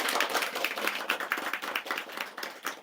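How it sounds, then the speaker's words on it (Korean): An audience applauds with steady, dense clapping that carries on for about three seconds. "박수 한번 쳐주시죠."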